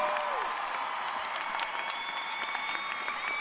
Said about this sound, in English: Oh, stop all that clapping.